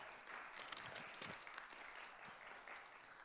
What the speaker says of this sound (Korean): 우리 목사님 나오실 때 큰 박수로 맞아주시기 바랍니다